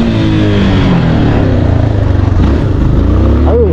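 A Yamaha Lander 250 motorcycle is ridden with its engine running loud and close. The motor drones steadily with a gentle pulsing rhythm, and a brief rise in pitch near the end suggests a light rev.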